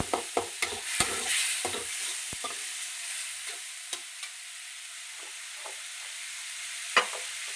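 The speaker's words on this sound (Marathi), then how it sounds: "तिखट पण टाकत आहे आपण तेलात, तुम्ही पाहू शकता." Turmeric and chili powder sizzle in hot oil with a steady soft hiss, broken by a few sharp spoon clicks and stirring scrapes near the start and one louder knock toward the end.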